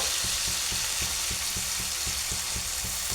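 Tomatoes cook in a pan for gaarala pulusu, giving a steady close sizzle and frying hiss with a soft rhythmic stirring pulse underneath and no voices.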